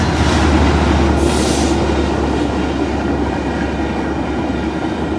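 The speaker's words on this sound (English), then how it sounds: "That's a Metrolink right there." A Metrolink train rolls past a level crossing, loud and close, its wheels rumbling and clattering steadily with a brief high squeal early on and no voices.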